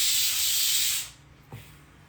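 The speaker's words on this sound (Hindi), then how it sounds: "प्रेशर कुकर सिटी मार रहा है वो छोले उबाल रहे ना" A pressure cooker boiling chickpeas lets out a loud, steady steam whistle for about a second, then cuts off, leaving a short low knock and a quiet hiss.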